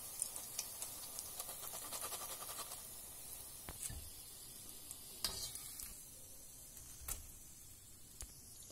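Potato kola urundai balls deep fry in hot oil with a soft, continuous sizzle and scattered small pops and ticks, heard faintly and close with no voices.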